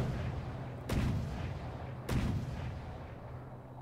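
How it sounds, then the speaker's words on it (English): Ship turret guns fire in the video game From The Depths, two heavy booming shots about a second apart over a constant low engine rumble, each blast loud and echoing. "Turret's happily opening up."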